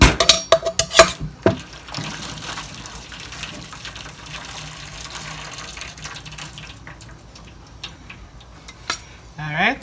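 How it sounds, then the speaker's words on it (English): Water drains from a cooking pot: a few metallic clanks and knocks of the pot at first, then a steady soft gush and trickle, and a last clatter at the end. "Drain off this water."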